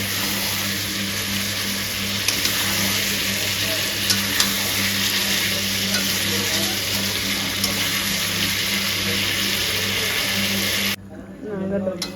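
Meat sizzles and fries steadily in a pan while being cooked down with spices for homemade biryani, a loud continuous hiss that drops away suddenly near the end.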